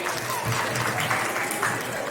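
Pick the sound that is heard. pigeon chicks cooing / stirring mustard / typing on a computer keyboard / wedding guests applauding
wedding guests applauding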